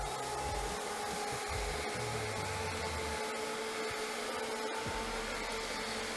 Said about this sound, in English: lean the i-mop back, and begin to clean